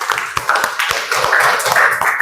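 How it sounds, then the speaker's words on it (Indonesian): Clapping for a student in a classroom lesson, several hands patting briefly and unevenly in a short burst, fairly close. "Tepuk tangan buat Mbak Nindya."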